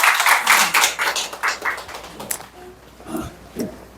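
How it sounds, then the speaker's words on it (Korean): Audience clapping at a church evangelism camp gathering as someone is called up to the front: a dense burst of claps that thins out after a couple of seconds and then fades into quieter room sound. "박수 부탁드리겠습니다"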